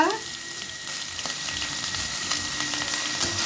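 Ginger, garlic and onion paste with chili, coriander, turmeric powder and salt fry in a pan while being stirred, giving a steady moderate sizzle with faint scraping throughout and no voices.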